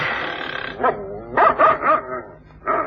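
Several dogs bark and yip nearby in quick bursts, with a brief whimper between the louder barks.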